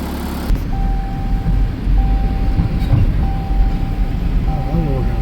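A farm tractor working in a hot pasture during hay baling, a loud steady engine rumble throughout, with a recurring high tone at intervals.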